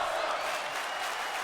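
Arena crowd in the WWE 2K20 wrestling game, a dense, steady wash of cheering and applause, loud and continuous, with commentary faintly over it.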